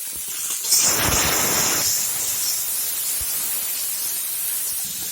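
Vegetables frying in a pan of oil with turmeric and salt, a steady close sizzle that flares louder early on and then settles into a constant hiss.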